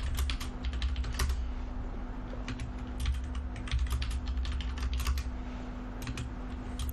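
Typing on a computer keyboard while entering a password during a Windows Server 2019 setup in Hyper-V: a steady run of quick, close key clicks over a constant low electrical hum, with no speech.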